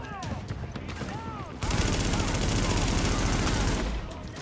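Enemy gunfire in Tom Clancy's The Division, loud automatic bursts that start abruptly after a short stretch of quieter game sound, hammer on without a break for a couple of seconds, then ease back.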